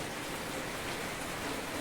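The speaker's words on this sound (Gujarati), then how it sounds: "વરસાદ." Steady rain falling outdoors on a farm during the millet harvest, a continuous even hiss of drops with no voices over it.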